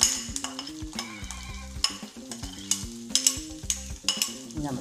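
Chopped shallots fry in the leftover oil from frying prawns, a bright crackling sizzle under a quick, rhythmic scraping and clatter of a spatula against the pan, with no talking.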